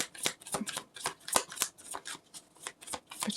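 Tarot cards shuffled and drawn from a deck, giving a close, steady run of soft riffling and card-slide flicks.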